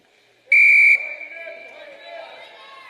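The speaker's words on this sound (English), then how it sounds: "what's just happened is the buzzer has gone." At a U14 boys game, a game buzzer gives one loud, sharp electronic blast lasting about half a second. Faint crowd noise from the venue follows.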